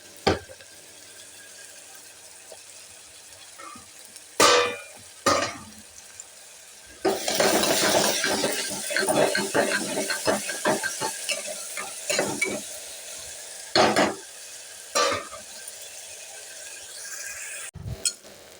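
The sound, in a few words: onion pieces frying in a pan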